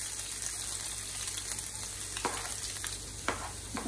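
Chopped onions sizzle steadily in a hot pan over browned ginger-garlic paste for egg biryani, a dense close hiss with a few sharp stirring scrapes and no talk.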